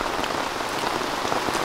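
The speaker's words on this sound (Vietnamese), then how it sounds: "Đúng mưa rào luôn đó." Heavy rain shower pouring steadily onto surfaces outdoors, a dense, loud, unbroken hiss of drops with no other sounds.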